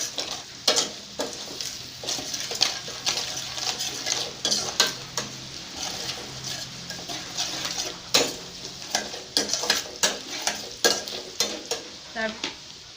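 Jackfruit curry with meat masala being stirred in a sizzling pan, a spoon scraping and clinking against the metal in repeated bursts over a constant frying hiss, fairly close and with no talk.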